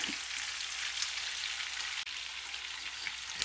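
Prawns fry in hot oil with a continuous, dense crackling sizzle, close and steady, a brief dip near the middle and a few clinks at the end.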